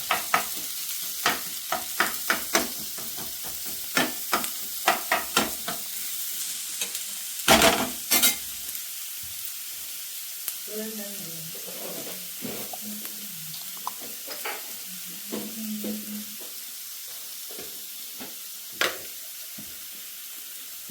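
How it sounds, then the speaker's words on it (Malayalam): Onions sauté with salt in a pan, a constant sizzle with many quick clinking stirs of a spoon early on and occasional scrapes later, plus a brief trickle of tap water partway through. "ഉള്ളി വാടാൻ വേണ്ടി നമ്മളെ കുറച്ച് ഉപ്പിട്ട് കൊടുക്കാം ഉള്ളി ഇങ്ങനെ വാടി കിട്ടും"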